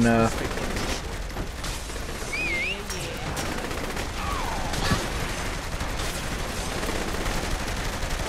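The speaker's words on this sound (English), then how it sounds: "All this gunfire" Dense bursts of gunfire in Saints Row: The Third crackle almost continuously, with rapid overlapping shots and a busy, chaotic background.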